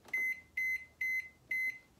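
An 800-watt Sharp microwave oven heating crumpets topped with Marmite and cheese sounds four evenly spaced, clear electronic beeps, loud and close, with nothing else over them.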